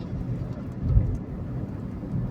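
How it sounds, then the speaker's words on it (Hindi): Light drizzle falls on a moving car during an evening drive, with soft patter over a low, steady road rumble and a brief swell of heavier noise midway. "थोड़ी थोड़ी बारिश होती है, हल्की हल्की बूंदाबांदी चल ही रही होती है"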